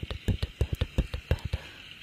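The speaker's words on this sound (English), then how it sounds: "of rain on the car roof." Rain patters on a car roof as a series of distinct, close taps, about a dozen sharp drops at an uneven but quick rhythm over a faint steady background.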